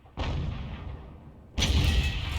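An M44 self-propelled artillery gun in a video game fires at a KV-1 tank, a loud booming shot with a long rumbling tail, then a second heavy blast over a low engine drone.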